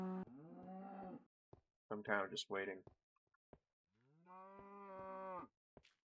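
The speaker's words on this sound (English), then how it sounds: "Stupid cows." Cows mooing in the video game Minecraft, Infdev version: two long, loud moos separated by a gap, with someone speaking briefly in between.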